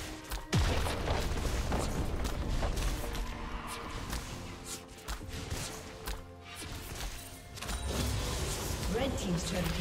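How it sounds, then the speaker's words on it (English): A turret being destroyed in League of Legends: a loud crash and boom of in-game destruction, followed by clattering effects and an announcer voice over busy game sounds. "Red team's turret has been destroyed."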